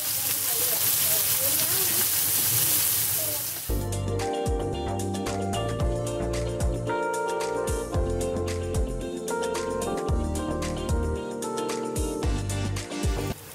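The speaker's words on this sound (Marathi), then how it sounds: "कांदो टाकतोय थोडंसं." Onion dropped into a hot pan with oil and asafoetida sets off a loud, steady sizzle that starts abruptly and keeps crackling densely, while a voice talks over it, cooking Malvani-style brinjal bharit.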